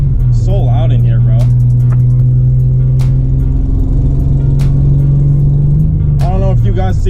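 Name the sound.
Nissan 300ZX Z31 engine while driving, loud interior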